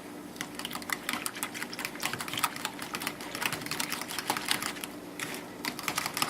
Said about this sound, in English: I need to mix my sauce with the milk. I already have a cup of milk. And then I need to stir that around.